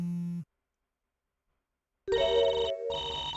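A phone rings in the Gyakuten Live courtroom game: a short tone cuts off into silence, then a louder, steady electronic ring rises with one brief gap, close and clear with no talking.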